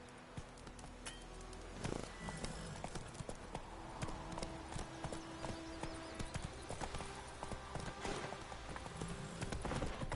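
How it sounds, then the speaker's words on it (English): Horse hooves clip-clop steadily in The Witcher 3, a continuous rhythmic stream of hoofbeats at a walking pace, moderately close and unbroken, with no voices over them. "Not so fast, Roach"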